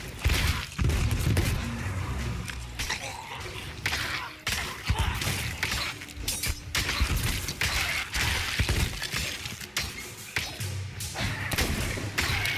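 Gunfire and impacts from the video game Sea of Thieves crack and thud in rapid bursts, loud and dense, with shots and heavy hits packed together throughout.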